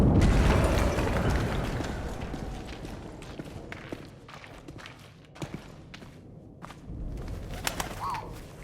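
Pigeon cooing in the WWI video game 11-11: Memories Retold, soft and brief near the end, heard over a busy ambient bed of footsteps, rustling and mechanical game noise.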